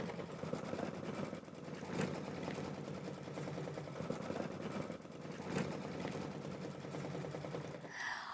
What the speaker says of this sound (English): this is going to stitch the placement line for where to put our glitter applique sheets